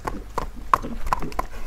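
An Orlov trotter is led forward on foot, its hooves clopping in an even walking rhythm of about three steps a second, close and fairly clear over a light background hum.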